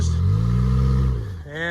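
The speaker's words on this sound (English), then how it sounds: "Every time somebody goes up it and spins their tires" Off-road vehicle in first gear climbing a rutted dirt and rock hill at Moose Valley, engine droning loud and steady as it strains and revs, easing off near the end as a voice comes in.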